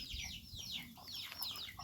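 Chickens clucking and calling as they go up to roost at an old farm hut by a rice field, a steady cluster of overlapping bird calls close by with no talk.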